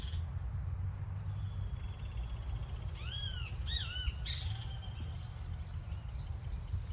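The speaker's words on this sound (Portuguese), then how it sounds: "assim como esse pássaro cantando aqui" A bird calls outdoors, giving a short burst of squawking, swooping notes partway through over a constant background of insect chirring and low rumble, moderately near, with no talk.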